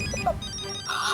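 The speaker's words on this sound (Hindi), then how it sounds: "रोशन भाभी का फोन है।" A phone ringtone plays in short bright melodic notes, fairly close, with a brief pause before the tune continues.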